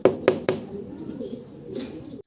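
Shartin pigeons, blue and other fancy varieties, cooing softly in low murmuring tones close by, with three sharp wing flaps or clicks at the start and another burst near the end.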